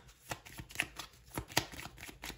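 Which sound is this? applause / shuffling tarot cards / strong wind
shuffling tarot cards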